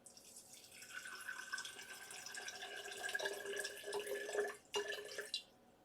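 Warm water trickles steadily into a container for a honey drink, a soft continuous pouring and dripping that is faint and close, stopping near the end.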